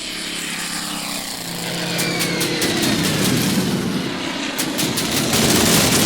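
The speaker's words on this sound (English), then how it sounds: "Our AA gun is providing more support here" Anti-aircraft gun firing during a Pearl Harbor battle in a WWII strategy video game, a steady dense rattle of repeated shots over a constant noisy backdrop, sharp bursts clustering toward the end.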